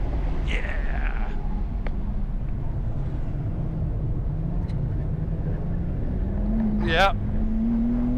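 A 2025 BMW M2 pulls hard at half throttle on a race track with traction control on setting 3, its engine note climbing steadily under constant wind and road roar while a few words are spoken inside the cabin.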